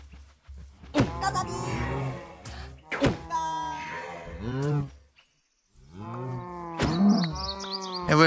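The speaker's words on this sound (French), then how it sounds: "Et ouais, là, sans poules qui font des bruits de vache." Chickens in the Minecraft video game sound off with cow moos, several lowing calls in a row, loud and close, with short gaps and a brief silence partway through.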